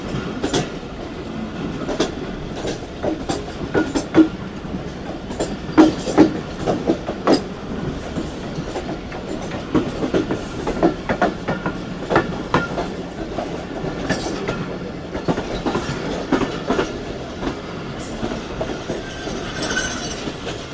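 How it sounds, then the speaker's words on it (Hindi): The Rahman Baba Express passenger train rolls past on a Pakistani railway line, a steady loud rumble with rhythmic clickety-clack from the wheels and occasional squeals as the coaches go by. "ये मुझे लग रहा है 48 टाउन रहमान बाबा एक्सप्रेस है, सॉरी 47 अब रहमान बाबा"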